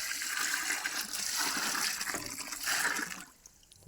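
Water poured onto oil cake to soak it, a continuous faint rushing splash lasting several seconds before tapering off abruptly.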